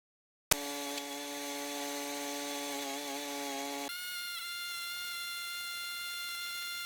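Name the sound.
mini digger auger drilling deck footing holes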